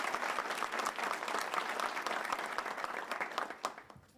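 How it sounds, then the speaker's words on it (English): An audience at a press event with Gov. Hochul and A.G. James on social media protections for children gives a short burst of applause, fairly quiet and distant, with individual claps standing out as it tapers off. "Let's give her a round of applause as well."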